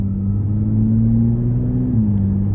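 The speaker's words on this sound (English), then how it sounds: "The exhaust sound is great." A 2025 Nissan Z 400 Red Sport twin-turbo engine drones loudly and steadily with a deep exhaust rumble, its pitch holding and then dropping slightly near the end.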